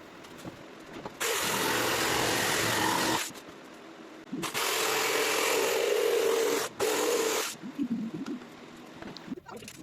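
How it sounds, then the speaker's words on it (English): A jigsaw cuts arch shapes into a wall in two long, loud buzzing passes of about two seconds each, followed by a shorter pass, with quieter rubbing and shuffling between the cuts. "with the help of a jigsaw I made the required"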